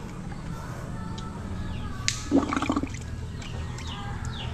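Water drawn by mouth suction into a level hose on a tile-laying job, a brief close gurgle and bubbling burst over steady background noise.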